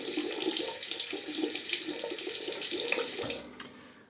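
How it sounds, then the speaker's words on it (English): A tap runs steadily into a sink while a Merkur 25C safety razor is rinsed heavily. The splashing water is close and even, then it stops abruptly near the end. "I'm rinsing now quite heavily"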